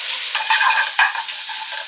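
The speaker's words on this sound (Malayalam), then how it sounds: "സവോള ഒന്ന് വഴറ്റിയെടുക്കാം കേട്ടോ" Onions sizzle and hiss steadily in a hot pan as they sauté for Malabar chicken biryani, while a utensil scrapes and stirs, loud and close, with no voices.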